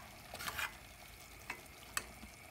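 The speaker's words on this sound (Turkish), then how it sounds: "Hafif karıştırıyorum." A leek dish dressed with lemon juice is stirred gently in a pan, a soft low simmering hiss with a few light scrapes and taps of the spoon, quiet and close, without speech.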